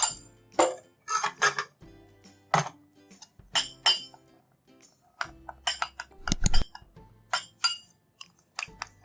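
Metal spoon clinking and scraping against a bowl while olive oil is mixed with soda for a skin tag remedy, a steady run of close, sharp taps and clinks with brief pauses.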